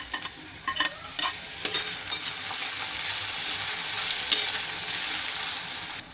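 Tomato added to onion frying in a pan for egg methi, stirred with scraping spoon strokes over a steady sizzle, irregular knocks early then a continuous fry hiss, close and clear.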